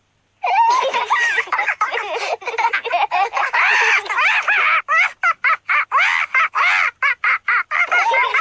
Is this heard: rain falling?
no